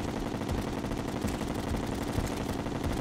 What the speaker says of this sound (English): the wailing of bullets